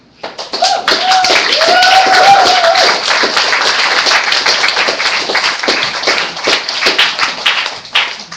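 An audience at a poetry reading in Mudrakers Cafe, Berkeley, breaks into loud, sustained applause and scattered cheers right after a poem, a dense clatter of clapping that slowly thins over several seconds.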